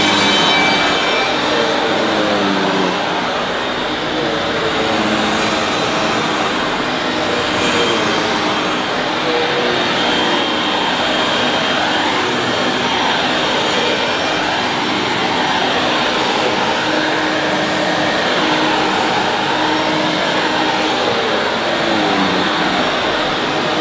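An Electrolux Turbo 2 Super upright vacuum cleaner with carbon dust around its exhaust runs loud and continuous, a dense steady motor roar with shifting rough, grinding textures as it is pushed along, without speech.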